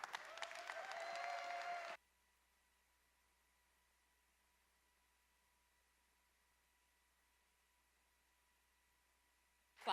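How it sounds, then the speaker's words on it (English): A short, lively burst of audience clapping closes a lightning talk at the SCaLE 22x conference. It lasts about two seconds, cuts off abruptly and leaves near silence. "Clapping, yeah."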